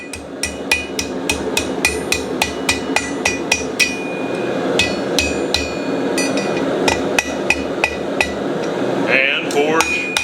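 A blacksmith forges a hook over the horn of an anvil, striking a rapid, steady run of sharp ringing hammer blows close up, then pausing and resuming with more spaced strikes.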